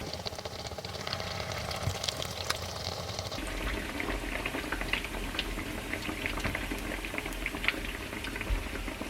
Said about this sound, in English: You fry them until they get golden brown, and then you can take them out.